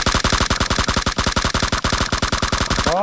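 Sustained automatic gunfire in PUBG Mobile played on a Samsung S10 Plus, a rapid, evenly spaced stream of loud shots that runs for several seconds with no voices over it.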